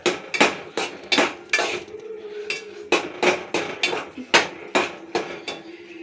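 Food being stirred in a home cooking pot, a ladle striking the metal pot in a quick, irregular series of loud clanks, roughly two or three per second, close by, with no talk.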